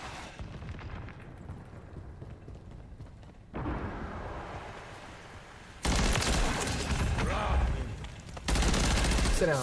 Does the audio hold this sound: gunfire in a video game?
yes